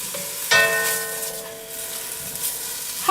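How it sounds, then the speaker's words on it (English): Meat browning over high heat in a cast iron enamel Dutch oven, a steady soft sizzle punctuated by a sudden metallic clank that leaves a ringing tone fading slowly. "High heat. You're browning here."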